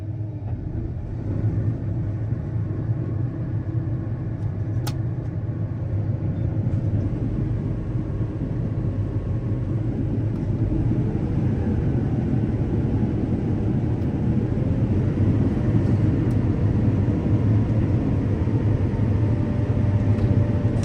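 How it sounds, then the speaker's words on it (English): A combine harvester running while its auger fills the grain tank with beans, a loud steady low rumble and drone heard from inside the cab, constant for the whole stretch. "it's really fun to watch this fill up with all of the grain. It's an auger that is putting it all in the tank"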